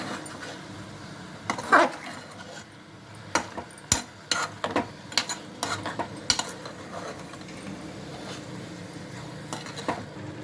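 A spoon stirring curry with tomato pieces and ginger garlic paste in a pan, scraping and knocking against the metal in irregular clinks and taps, close, over a low background hiss.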